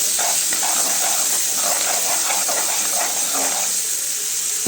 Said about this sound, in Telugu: అలా తరిగి పెట్టుకున్న టమాటాని ఫ్రై అయిన ఆనియన్స్లో వేసుకొని ఈక్వల్గా కలుపుకోవాలి.